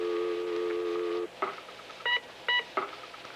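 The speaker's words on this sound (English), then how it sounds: "To work it, I blow to get the dial tone. And it's on 0. And I blow on 0 to start the numbers." Telephone dialing tones from a breath-operated phone, with a steady dial tone that cuts off, then several short separate DTMF-style beeps for the number being entered, clear and close with no talking.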